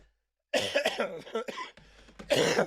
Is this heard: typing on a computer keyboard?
no